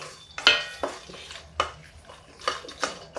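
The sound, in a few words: dry fruits and nuts roasting in ghee in a pan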